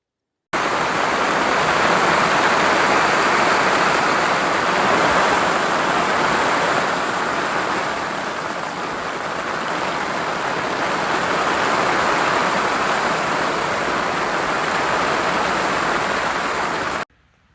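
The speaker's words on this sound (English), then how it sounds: "as you saw in that last clip, we got more rain" Heavy monsoon rain in the mountains pours down in a dense, continuous roar, with a steady broadband hiss that swells slightly, dips in the middle and then holds constant, with no voices.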